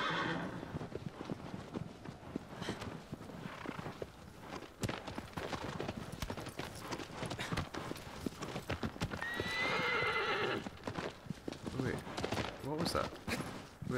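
In the video game Shadow of the Colossus, a horse gallops with rapid, rhythmic hoofbeats throughout and neighs loudly partway through, while a person talks intermittently over it.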